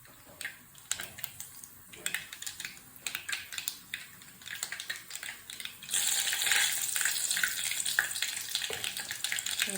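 Dried red chilies drop into hot oil where mustard seeds have already popped, tempering for a rasam: a steady crackling sizzle that grows suddenly louder and denser partway through and keeps spitting close by.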